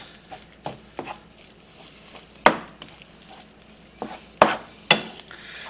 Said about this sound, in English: Now that we got everything seasoned, and go ahead and mix it up here. Mix it up so everything spreads.